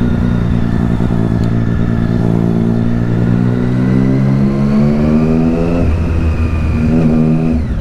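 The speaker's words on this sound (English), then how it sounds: "Oh, bikers. Yeah. Where the bike is at? Oh, they seem to be going the same way as me." A group of bikers rides along the road, with a loud, continuous, close engine drone that holds steady and shifts in pitch with throttle changes.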